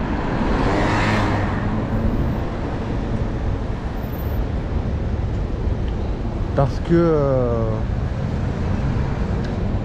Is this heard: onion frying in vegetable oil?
no